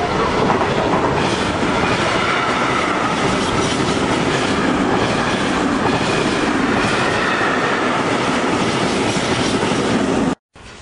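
Trenord S4 commuter train at a station in Camnago, Italy: loud, continuous rolling rumble with rhythmic rail clatter and faint wheel squeal, close and steady for about ten seconds before a sudden cutoff.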